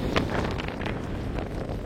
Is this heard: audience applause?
no